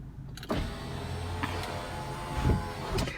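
Power window motor in a 2013 Audi A5 Premium Cabriolet whirs steadily for about three seconds after a sharp click, with a low hum and a slight rise toward the end. Nobody talks.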